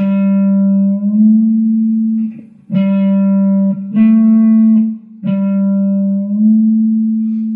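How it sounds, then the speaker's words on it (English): A guitar note is plucked several times, each pluck ringing out and bending slightly in pitch, clear and close with sustained tones between attacks. "if you listen to the pitch, and then pluck and pull the string,"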